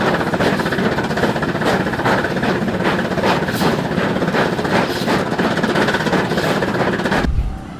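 A 1913 steam snowplow grinding up a steep 110% rack grade in Switzerland, pushed by a century-old rack locomotive; steady heavy mechanical rumble with rhythmic chuffing beats, loud and continuous, cutting off abruptly near the end.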